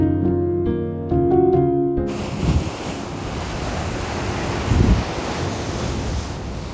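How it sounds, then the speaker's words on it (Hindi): Sea waves roll onto the coast of Jeju Island, a broad surf wash with two swells peaking in turn amid wind, preceded by a few seconds of soft tonal music. "इस स्थान पे बैठ के समुद्र की लहरों को अटकेलियाँ करते हुए"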